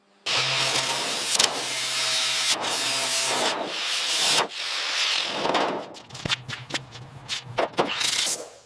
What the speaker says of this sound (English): Using a sanding disc, we're focusing on the wheel arch and lower sill now.